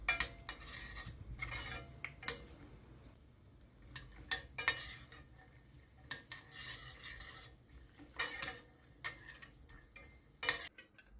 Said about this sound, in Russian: Добавляем немного красного перца, у меня острый, и слегка обжариваем